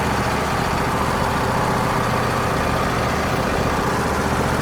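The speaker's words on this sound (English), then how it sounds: "The Landmaster, when it's idling" A Craftsman Landmaster lawn tractor engine idling nearby, a steady, even low rumble with a constant hum and no talking.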